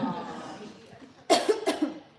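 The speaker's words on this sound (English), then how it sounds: "We are coughing and choking." Two sharp, close coughs in quick succession follow a stretch of quiet voice, each burst loud and raspy.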